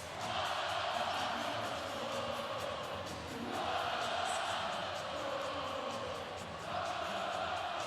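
A packed gym crowd at the 2023 Nebraska Class B state volleyball championship between Skutt Catholic and Norris roars and cheers in sustained waves, loud and continuous, with shouts rising out of the din.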